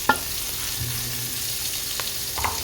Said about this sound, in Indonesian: Ditumis seperti biasa ya teman-teman.